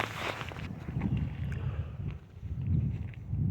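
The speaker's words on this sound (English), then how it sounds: "it's really windy and chilly out" Gusty wind blowing outdoors on a chilly day, a rough low rumble of wind buffeting the microphone, continuous and fairly loud with uneven swells and no speech.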